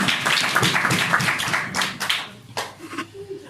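Church congregation clapping together in a hall, a dense run of many hands that thins out and fades into scattered claps and low murmuring by the end.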